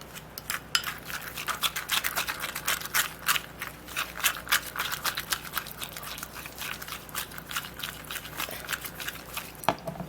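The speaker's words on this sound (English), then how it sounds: "Now we'll just stir the ingredients together" Ingredients for a homemade belly lotion being stirred into a paste, a fast, steady scraping and clicking of a utensil against a bowl, close and continuous with no talking.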